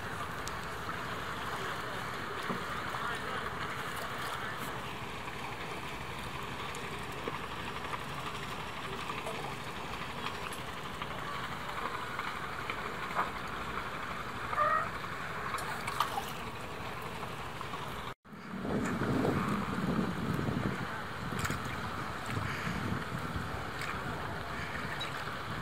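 A police patrol boat leaves its anchorage at Porto Budva marina in Montenegro, its low engine drone steady and faint under wind buffeting, cutting out briefly before a louder rumble.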